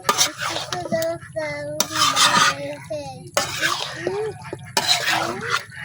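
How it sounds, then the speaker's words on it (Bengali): Spice mixture being stirred and mixed into broiler chicken meat, with repeated scraping, squelching bursts of mixing under voices talking close by. "মাংসের সাথে মশলাটা খুব ভালোভাবে মিশিয়ে নিতেছি।"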